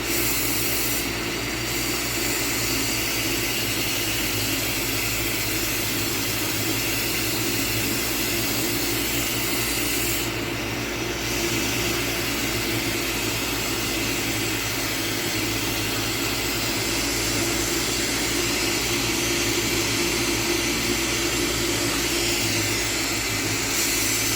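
Torch flame roaring steadily while heating a 12mm clear glass rod for glassworking, a loud continuous hiss-like rush filling the whole stretch with no talk.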